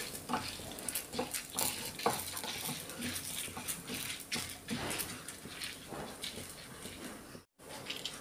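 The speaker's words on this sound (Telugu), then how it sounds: "ఎండుమిరపకాయలు వేగడానికి చాలా తక్కువ టైం పడుతుంది, అన్నీ ఒకేసారి మనకు వేగిపోతాయి" Dry red chillies fry with toor and urad dal in a pan, a faint crackling patter broken by scattered stirring scrapes and light clinks, with a brief dropout near the end.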